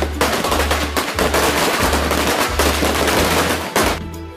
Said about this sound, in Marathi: फटाके फुटतायत.